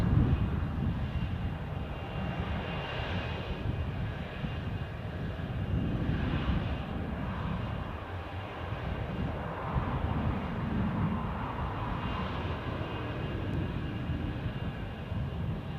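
A departing airliner at Newcastle airport bound for Jerez makes a steady, low roaring rumble that stays distant and sustained throughout, with no talking.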